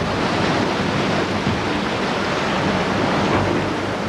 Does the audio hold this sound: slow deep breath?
no